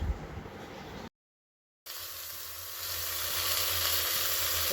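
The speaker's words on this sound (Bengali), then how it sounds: "লাউটা বসিয়ে দিয়েছি, তেল দিয়ে একটু 5 ফোড়ন দিয়েছি" Chopped bottle gourd fries in hot oil tempered with five-spice seeds, giving a close, continuous sizzle that briefly cuts out and then returns, growing steadily louder.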